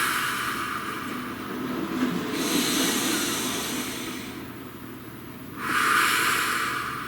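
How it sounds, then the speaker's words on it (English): Slow, deep human breaths drawn in and let out during a guided meditation, a long airy inhale and exhale heard close up with no talking, a softer pause between them and a stronger breath toward the end. "Please take a nice deep breath."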